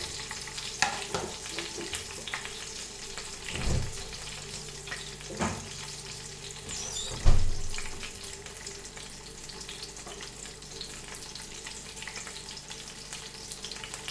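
Garlic cloves frying in a pan for sabudana khichdi, a steady close sizzle with occasional louder pops and spatters and a few stirring clatters, no voices.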